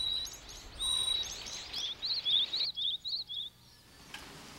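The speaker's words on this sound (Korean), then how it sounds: "첫 손님은 쇠박새다. 겨우 사리를 위해 평균 4천여 개의 도토리를 저장한다는 어치도 찾아왔다." Small forest birds, marsh tit and Eurasian jay, call near a mountain temple: a quick run of thin, high chirps and tweets in a rhythmic series, fairly close, over a faint background hiss.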